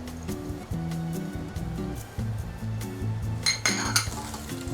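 Chinese dumpling meat filling being mixed in a bowl, giving repeated close clinks and knocks of utensil against dish in an uneven rhythm over a steady low background tone.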